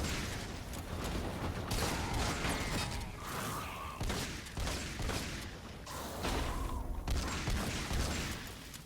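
Repeated heavy blasts from the Copper Stampede shotgun in Fortnite Save the World come in quick succession, loud and close, over a constant bed of game action and impacts.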